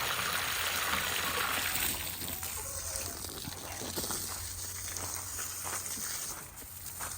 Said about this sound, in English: I fill up another thing of water,